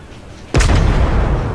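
A single heavy naval gun blast from World of Warships, involving a Colorado battleship, booms loudly and close, followed by a long low rumbling roar that fills the rest of the moment.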